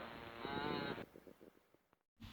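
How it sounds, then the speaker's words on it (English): Cattle bellowing from a distant paddock, a sustained loud moo in the first second followed by a quieter series of short lowing pulses, then a brief gap and another call starting. "From the distant paddock, I can hear the cattle bellowing, crying of their thirst and hunger."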